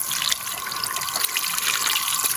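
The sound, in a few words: strong flowing mountain stream water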